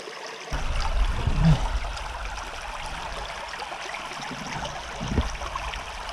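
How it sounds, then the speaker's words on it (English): A small brook trout creek running steadily under a bridge, a continuous close trickle and gurgle of water with a few louder splashy surges. "Just stopped at my first little creek here"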